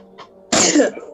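One sharp sneeze bursts out close by, preceded by a faint short intake of breath, with no talking around it.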